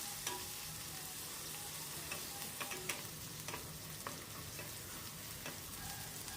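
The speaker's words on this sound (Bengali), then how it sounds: "পেঁয়াজটাকে আমি কিছুক্ষণ ভালো করে নেড়েচেড়ে মিশিয়ে নেব।" Chopped onions stirred and frying in a pan for a mutton curry, a steady close sizzle with scattered spatula scrapes and ticks, no voices.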